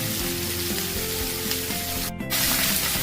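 Malabar spinach frying with ginger paste in a pan, a steady loud sizzle throughout that dips briefly near the end before resuming.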